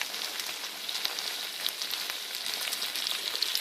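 A steak with its fat cut sizzles in a frying pan, a dense, even hiss with scattered pops and crackles, close and continuous, no talking.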